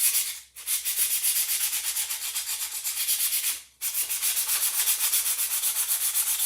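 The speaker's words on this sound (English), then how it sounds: "I just kind of give it a little light sanding" Steady rhythmic rasp of a sanding sheet lightly rubbed back and forth over painted wood, close and continuous, with two brief pauses between passes.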